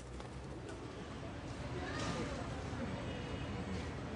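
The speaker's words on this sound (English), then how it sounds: "The ancient hospital may lie in ruins today, but pigeons have made it their home, filling it with life." Pigeons coo inside the ruins of an old colonial hospital in the Dominican Republic, soft and fairly close. Steady background noise runs throughout, and the cooing sits under a continuous voice-like layer.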